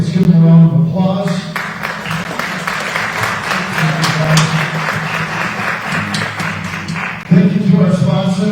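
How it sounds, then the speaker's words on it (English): A crowd at a candidate forum gives the candidates a round of applause, a dense, loud burst of clapping lasting several seconds, with a speaking voice just before it starts and again as it fades out. "Let's give them a round of applause."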